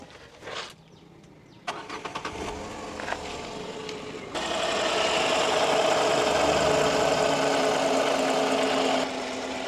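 An eight-year-old three-cylinder 2017 Renault Kwid RXL engine cranks with a few rough bursts, then catches and settles into a steady, rumbling idle close by.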